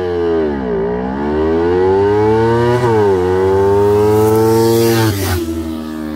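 Kawasaki Ninja 300 and Ninja 400 motorcycles race on a street, their loud, high engine whine climbing steadily and dipping at each gear shift, close and continuous throughout.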